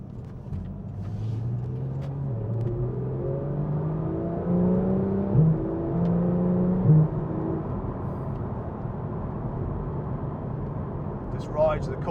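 Porsche 911 GT3 RS engine while driving, a steady rumbling drone with rising pitch sweeps as it accelerates through gears, heard from inside the car under ongoing speech.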